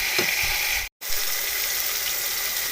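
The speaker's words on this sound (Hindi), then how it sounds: "इसको जस्ट हमने 1 ही मिनट भूनना है।" Tomatoes frying in a pot for a beef yakhni pulao give a steady, close hiss of sizzling, broken by a brief cut-out near the start.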